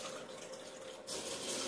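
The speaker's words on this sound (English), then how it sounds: "I'm just going to add a little bit of water." Water streams from a tap into a pan of frozen chicken, a steady close hiss and splash that gets louder and brighter halfway through as the flow increases.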